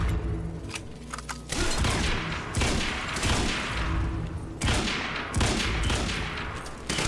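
Loud, close gunfire in Quantum Break: several broadband bursts of shots arrive in clusters with short pauses between them, over a constant game background and without voices.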